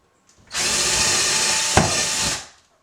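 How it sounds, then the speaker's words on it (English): Power drill boring a hole into a wall for wall anchors, one steady continuous burst of about two seconds with a brief bite midway, close and alone. "So let's go ahead and drill a hole here"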